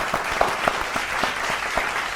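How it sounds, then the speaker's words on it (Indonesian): A studio audience at an Indonesian quiz show claps for two contestants, a steady, dense round of applause with a few sharper individual claps standing out, heard alone at moderate level. "Tepuk tangan buat kedua peserta."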